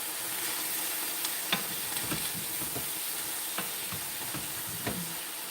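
Vegetables sauté in a hot pan beside bok choy, a steady hissing sizzle broken by occasional stirring scrapes and clicks, quiet and close with no voices.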